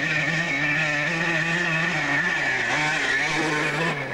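A blue motorcycle engine runs steadily and loudly at an ISDT 1974 enduro event near Camerino, Italy, a continuous droning revving hum that holds close for several seconds before easing slightly at the end.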